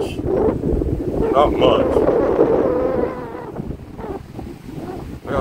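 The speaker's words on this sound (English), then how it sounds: "this wind is really something else right now" Strong outdoor wind buffets the microphone at a rifle match, a steady loud rumbling roar that runs through the whole clip while someone speaks briefly over it.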